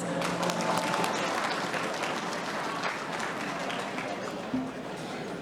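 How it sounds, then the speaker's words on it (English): An audience at a football awards night applauds loudly and steadily, a dense wash of many hands clapping that continues throughout. "Big round of applause, please."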